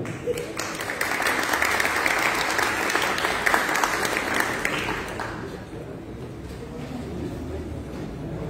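Sustained audience applause at a formal event in Colombia, many hands clapping steadily for the full stretch, dense and fairly near, easing slightly toward the end with a faint voice beneath.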